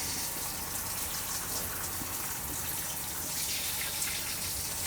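Pink RV antifreeze flows steadily into the plumbing of an Airstream trailer being winterized, a continuous close, faint rushing gush of liquid with no pauses.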